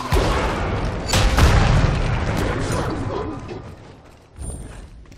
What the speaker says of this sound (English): Your middle tower has been destroyed.